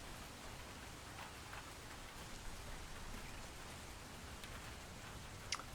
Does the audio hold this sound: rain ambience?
yes